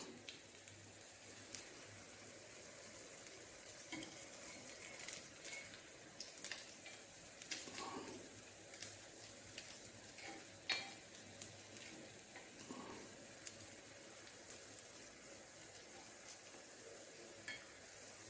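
Idli batter snacks frying in hot oil in a pan, a steady fine sizzle with occasional soft stirring and utensil taps, fairly quiet and continuous with no talking.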